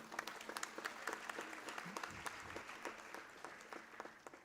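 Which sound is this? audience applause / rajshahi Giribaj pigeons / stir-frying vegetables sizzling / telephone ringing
audience applause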